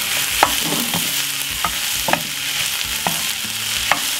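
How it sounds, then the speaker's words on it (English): Potato for a twice-baked dish is stirred in a hot frying pan, with a low sizzle and repeated scraping knocks of the utensil against the pan at a steady, unhurried rhythm. "Give it a quick stir."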